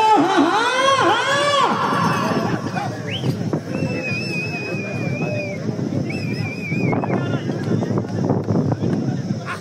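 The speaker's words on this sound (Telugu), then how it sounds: "కేకలు కేరింతలు" Crowd shouting and cheering at a bull race in a village, loud and continuous with whistles and yells, under a commentator's amplified voice and wind buffeting the microphone.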